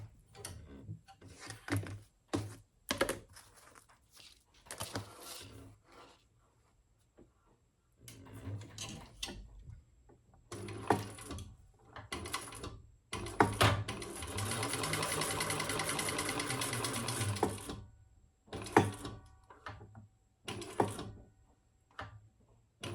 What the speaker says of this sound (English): turn and stitch underneath that next card slot